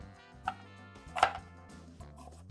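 A kitchen knife chops onion on a board, with a few distinct, crisp strikes spaced apart over soft background music.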